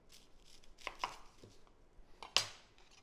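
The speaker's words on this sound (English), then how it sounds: "Purple onion, tip and tail that." Knife cutting a purple onion on a board, a few quiet, close, crisp chops and taps spaced irregularly over a few seconds with no talking.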